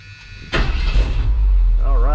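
A vintage Ford truck is started with a key, a starter crank catching into a loud, rumbling idle close by, with a voice heard briefly near the end.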